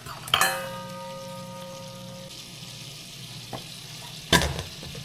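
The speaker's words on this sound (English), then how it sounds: "We'll melt a stick of butter." A stick of butter drops into a hot pan with a sharp clang and sizzles softly and steadily, with a second clatter of cookware near the end, close and quiet.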